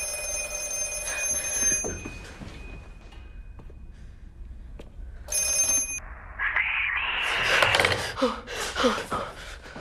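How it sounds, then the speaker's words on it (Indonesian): An electronic phone ringing in repeated bursts, loud and close, with a gasp and rustling movement later on. "telepon itu terus-terusan berdering"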